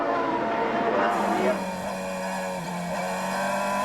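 Formula 3000 race cars at the Nürburgring roar past at high revs, a sustained engine whine sweeping down in pitch as the cars pull away, with faint commentary underneath.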